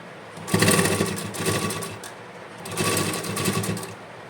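A sewing machine stitches old leggings into a doormat in two close, loud runs of rapid, even needle strokes separated by a brief pause.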